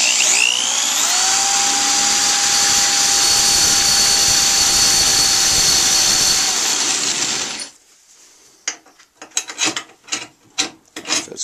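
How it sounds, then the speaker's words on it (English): A power drill bores into a thick metal bar with a loud, continuous high-pitched grinding whine for about seven seconds, then stops abruptly, followed by scattered scraping and clunking of metal. "So we're going to open that up with the drill before we do anything else as well"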